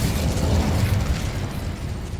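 Incendio, a fire spell, is cast in Hogwarts Legacy as a dense, roaring burst of flame and rumble that holds steady and loud throughout, with no voices.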